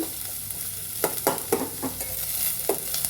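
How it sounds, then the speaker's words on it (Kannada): Onion and green chillies frying in a pan with mustard seeds and cumin, a constant sizzle with a few quick spoon scrapes and taps as it is stirred. "ಮತ್ತು ಈರುಳ್ಳಿ ಹಸಿಮೆಣಸಿನ್ಕಾಯಿ ಸ್ವಲ್ಪ ಫ್ರೈ ಮಾಡ್ಕೊಳ್ಳೋಣ"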